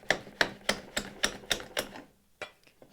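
A hand plane takes cuts along a hickory picture frame. About seven quick, evenly spaced strokes rasp nearby at a steady rhythm, followed by a short pause and two softer strokes.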